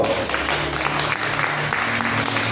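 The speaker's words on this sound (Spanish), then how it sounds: "Dale voto y aplauso al Señor" Congregation applauding the Lord during a church service, dense steady clapping throughout with a low murmur and tonal hum underneath.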